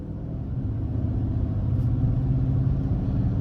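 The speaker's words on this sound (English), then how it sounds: "let's go ahead and take this Titan Platinum Reserve out on the road for a quick test drive" A 2023 Nissan Titan Platinum Reserve pickup truck driving on the road, its steady low engine and road rumble heard from inside the cabin, constant and fairly loud.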